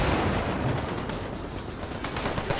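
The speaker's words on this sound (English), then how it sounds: "There's someone's firing from down in the trench there." Gunfire from soldiers in a trench in the WWII strategy game Gates of Hell, during a Chinese army human wave assault on a hill: a dense, continuous crackle of distant rifle and machine-gun fire with no talking.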